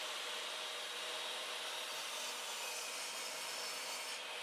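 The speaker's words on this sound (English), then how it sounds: "keeps her arm directly in line with the motion of the saw, so that the blade is not pulled offline" A hand saw cuts wood for a mitered picture frame, giving an even, continuous rasping hiss that holds steady throughout at moderate distance, with no voices.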